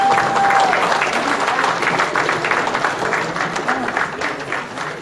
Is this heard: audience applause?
yes